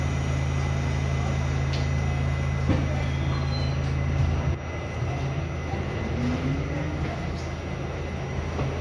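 An R68 subway car running as a D train on the F line via the Culver express in New York, heard from onboard as a steady loud rumble and hum of wheels and motors with faint squeals throughout.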